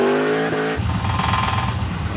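A Chevrolet Camaro trails close behind a modified Trans Am WS6 on the road, its engine roaring loudly with a steady revving drone that thickens and deepens partway through.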